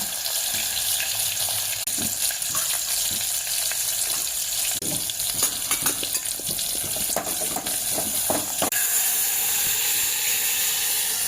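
Dal and garlic frying in a pan, a steady close sizzle with scattered crackles and stirring scrapes throughout, no voices.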